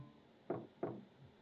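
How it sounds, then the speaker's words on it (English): Two knocks on a door in the video game Chaos Child, quiet and about a third of a second apart, with nothing else around them. "Suddenly she heard a knock at the door."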